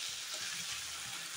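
Rai shak, mustard greens, sizzle softly in a pan, a faint steady frying hiss over a short moment with no voices.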